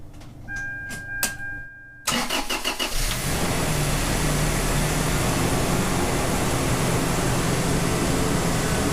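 Toyota 3RZ-FE engine cranked and started after a valve adjustment: brief cranking and starter clicks, then the engine catches and settles into a steady, loud idle that runs on evenly.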